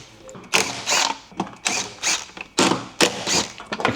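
T30 self-tapping screws being undone from an IBR shroud, giving repeated close, rhythmic ratcheting bursts, each a short clicking spell separated by brief pauses.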